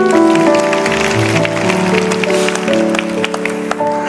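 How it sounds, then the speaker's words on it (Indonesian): A church congregation claps together during a worship service, a dense, loud wash of hands over steady sustained music, continuing for several seconds. "Kasih tepuk tangan untuk Tuhan Yesus."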